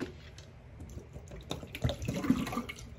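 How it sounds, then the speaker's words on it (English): Water pours out into a sink with a soft, close splashing that swells near the end of a short burst, with no speech. "pouring the water out that I was gonna use"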